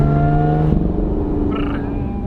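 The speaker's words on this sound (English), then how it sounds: "How it kind of like gives a little bit of something, overrun pops, like a flutter when I let off the gas." Lotus Evora GT exhaust burbles and flutters with low crackling overrun pops as the throttle is lifted, a close, rough, sustained rumble that fades and wavers.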